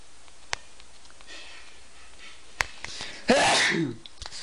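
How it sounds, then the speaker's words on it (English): A single loud human sneeze up close, preceded by a sharp sniff and a few faint clicks in an otherwise quiet room. "I gotta sneeze."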